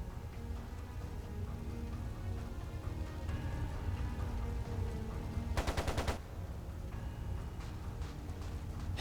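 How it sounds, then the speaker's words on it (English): A short machine-gun burst of about half a second in Trails of Cold Steel 2, a rapid rattle over a dense low game soundscape, no speech. "It sounded like a machine gun."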